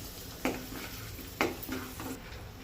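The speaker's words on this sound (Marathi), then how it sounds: "आता हे जे मिश्रण आपण तयार केलेलं ते मी ॲड करते ह्याच्यामध्ये चांगलं मिक्स करून घ्यायचं" A methi matar malai mixture is stirred in a pan, with two distinct spoon scrapes and clinks against the metal over a faint, steady sizzle, close by and without talk.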